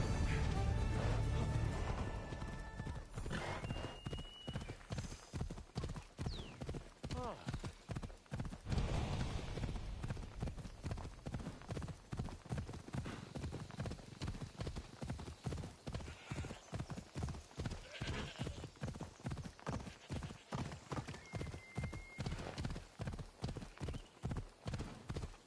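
Galloping horse hooves in Assassin's Creed Odyssey: a steady, fast clip-clop rhythm runs throughout, loud and close, with a brief whinny early on and game music and ambience underneath.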